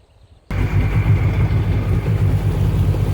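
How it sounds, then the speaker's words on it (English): After a moment of near silence, a Sea-Doo's two-stroke engine suddenly starts buzzing loudly and steadily with a rough, throaty drone that carries on close by. "The peaceful sounds of the two-stroke engine."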